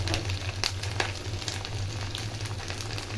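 Spices with salt and turmeric sizzling in hot oil as they are stirred in a pan for rohu fish curry with pointed gourd, a dense continuous frying hiss with occasional scraping strokes, close and fairly loud.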